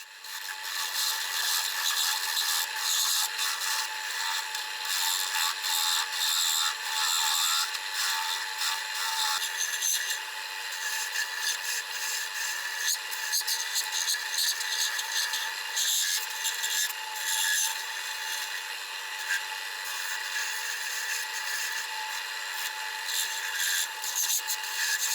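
A cutter scrapes shavings off a metal piece for a blacksmith-made shop door latch, giving a continuous dry, raspy scraping with small rhythmic variations, steady and close, with no talking.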